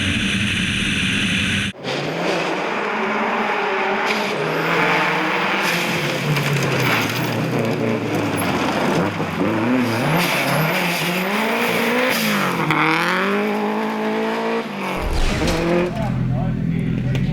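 Subaru rally car on a gravel forest stage at a rally sprint, engine loud and rising through gear changes and revs, with tire noise, heard alongside a commentator's voice.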